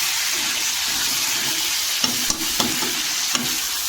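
Leafy garden greens fry in a pan with a steady close-up sizzle, while a few soft knocks of stirring land near the end.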